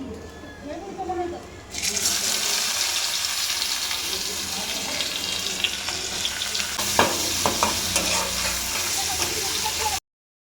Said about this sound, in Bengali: এর মধ্যে পেঁয়াজ দিয়ে দেবো তারপরে পেঁয়াজটাকে একটু ভালো করে ভেজে নেবো